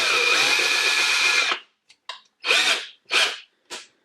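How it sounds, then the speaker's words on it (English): A power drill drives a screw into a cupboard at home, a long steady whirring run followed by several short bursts as the screw is backed out and driven again, close and loud with no voices. "Just drill the screw in"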